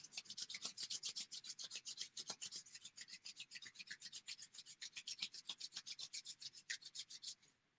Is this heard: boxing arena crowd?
no